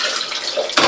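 Running tap water pouring steadily into a container at a flood-hit home in Laguna during a typhoon, a continuous rushing splash that grows louder and brighter near the end.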